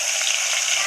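Garlic and curry leaves frying in hot oil, a dense, even hiss that holds steady and close for under a second with no other sounds.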